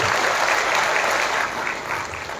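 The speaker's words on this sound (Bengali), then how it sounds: "একবার জুড়ে করতালি বাজিয়ে তাদেরকে আমরা সম্মান জানাতে চাই" A crowd gives a steady round of applause at a World Veterinary Day celebration in honour of veterinarians: dense, even clapping that fills the room and tapers slightly toward the end.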